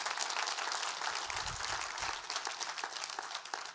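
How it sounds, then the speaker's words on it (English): Dense, continuous applause fills a town hall meeting during a family weekend event, a loud, even wash of many hands clapping throughout with no talking. "Let's give them another round of applause."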